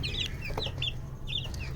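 Fifteen-day-old native (deshi) chicks cluck and cheep softly in repeated short calls over a steady low rumble, with no voices.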